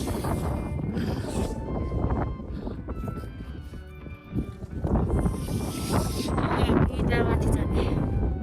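Cold wind gusts across a snowy mountainside on the Langtang trek, a continuous rough roar and buffeting that stays loud throughout, briefly easing before surging back.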